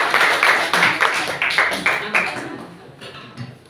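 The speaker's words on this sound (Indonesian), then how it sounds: "Tepuk tangan untuk kelompok" Classroom audience claps for a student group after its presentation, a quick rhythmic burst of applause that fades out over a few seconds, with a voice briefly heard near the end.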